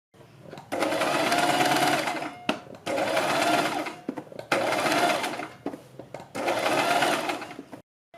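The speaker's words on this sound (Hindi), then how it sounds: "यहाँ पर मैंने बुकरम के बराबर में सिलाई लगा ली है" Sewing machine stitching a double-layer cloth strip along buckram for a neckline, running in four long loud bursts separated by short pauses, close up with no talk.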